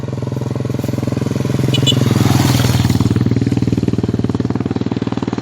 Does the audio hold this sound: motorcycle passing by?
yes